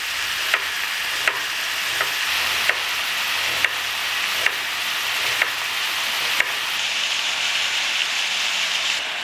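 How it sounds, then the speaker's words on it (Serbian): Meat fries in a pan with a steady, close sizzling hiss, punctuated by a series of sharp utensil taps against the pan every second or so. "Dok se meso prži"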